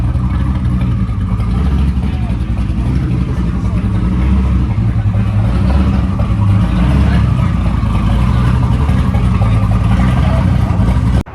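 Twin-turbo 2019 Chevrolet Camaro ZL1 with a TH400 transmission, its engine droning loud and steady as the car drives, a deep rumble with rough, boomy wind-like texture throughout.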